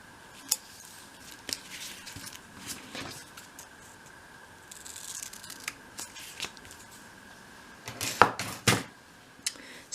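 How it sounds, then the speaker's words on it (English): Scissors snip around a piece of card for a dolls house study, with a few sharp isolated cuts followed by a quick cluster of louder snips near the end, close and quiet between. "cut around your piece of card"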